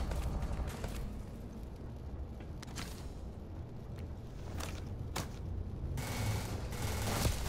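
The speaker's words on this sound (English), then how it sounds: "Where are they shooting from?" Gunfire during a firefight in the Starfield Shattered Space video game: scattered sharp shots and short bursts ring out at a moderate distance over a steady low rumble of ambience, with a denser burst near the end.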